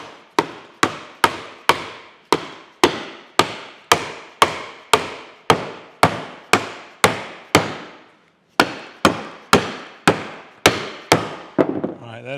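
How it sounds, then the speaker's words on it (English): Soft-faced hammer tapping the jaws of a Skinner four-jaw chuck back together, about twenty sharp, evenly spaced knocks with a brief pause near the end, close and clear with no talk. "I'm going to take a soft-faced hammer here."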